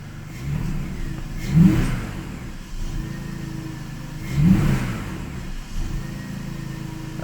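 A BMW E39/E46 six-cylinder engine, fresh from a throttle body replacement, gets two sharp revs a few seconds apart, each rising and falling back to a steady idle; close and fairly loud, with no talk.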